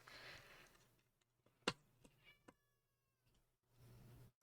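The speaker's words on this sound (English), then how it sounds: "Miso's meow is so high-pitched that it doesn't matter, even if I'm wearing headphones or my IEMs" Miso, a pet cat, lets out a thin, high-pitched meow, then a few fainter mewing calls and clicks follow, with light household noise at the start and end.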